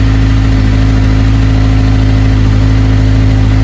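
A Honda S2000 engine idles right after being started, a steady, loud, close low drone with a constant hum and no voices.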